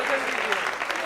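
Audience applause at a mushaira in Delhi welcoming a young poet, a dense, even roar of clapping from a crowd that fills the whole short moment.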